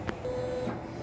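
An ink tank printer whirs steadily after a head cleaning, its mechanism humming in a continuous drone with a faint tone, heard close up and alone.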